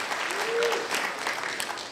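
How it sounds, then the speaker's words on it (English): Audience applause at a LEGO fan event keynote, steady broadband clapping from a crowd filling the whole two seconds, fairly close and even, with a brief faint whistle-like tone early on. "And you can applaud for that."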